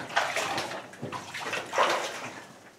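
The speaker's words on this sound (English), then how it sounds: "So we've got quite a bit of water on the floor right now." Water on a beryllium pegmatite mine floor sloshes and splashes under several close footsteps, irregular wet churning bursts with no talking.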